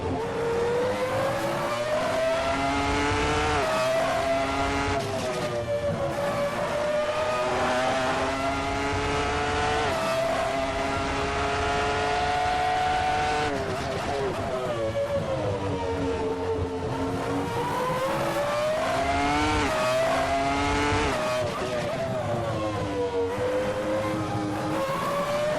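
A Ferrari F310 race car engine in the Assetto Corsa racing game screams at high revs for the whole stretch, its pitch climbing through gears and dipping on lifts and downshifts, loud and continuous with no talk.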